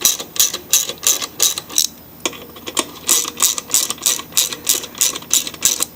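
A ratchet wrench clicks rapidly while bolting the recoil starter back onto a Poulan Pro mower, close and loud, in two quick runs of back-and-forth strokes with a short pause between.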